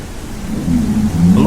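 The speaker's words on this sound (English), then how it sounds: "Scattered showers are currently moving through the area." A low rumble of thunder builds under steady rain during a passing shower outdoors, loud and close for a brief moment.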